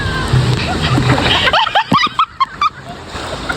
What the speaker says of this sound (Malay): Splash kuat gila.